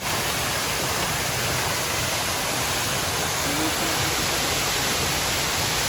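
A waterfall pours in a steady, loud, unbroken rush of water that fills the whole scene, with no voices.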